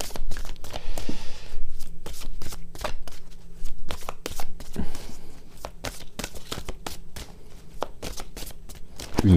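A deck of tarot or oracle cards is handled and cut, a rapid series of close, crisp card snaps and flicks running throughout with no speech.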